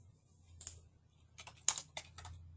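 Quiet keystrokes on a computer keyboard as a search is typed, a short irregular burst of clicks, close but faint, with no voices.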